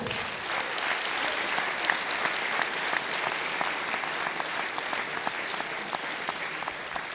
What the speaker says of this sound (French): Donc je voudrais que vous l'applaudissiez encore, vraiment.